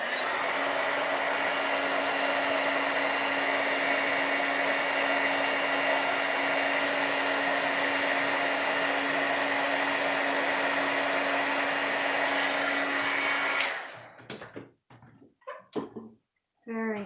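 A heat tool blows steadily and loudly for about thirteen seconds while heat-setting embossing powder on a stamped card, then cuts off abruptly, leaving a few faint handling sounds.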